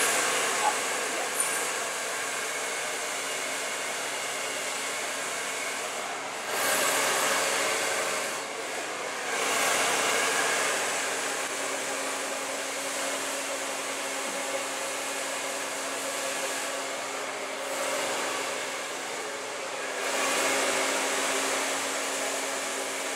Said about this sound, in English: And then place the blow dryer.